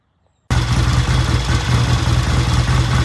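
A 1968 Triumph T100 or a 1974 Norton vintage motorcycle starts up after a short silence and then idles steadily and loudly close by, with a deep, even, rumbling beat.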